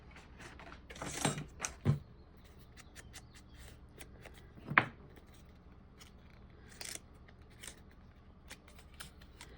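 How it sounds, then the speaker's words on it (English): Scissors trimming paper for a handmade notebook: a few quick, crisp snips and rustles close by, clustered early and again midway, separated by quiet handling noises. "we're going to need to cut and trim this piece just enough here"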